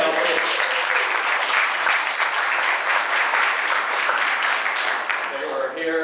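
A crowd claps steadily for several seconds, a dense even patter of applause that thins out slightly at the end.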